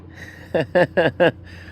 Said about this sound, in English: Well, you're a loud one.